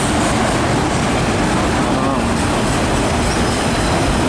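A freight train hauling loaded auto rack cars rolls past close by, a loud, steady broadband roar of wheels and rail noise filling the whole stretch, with a voice faintly present.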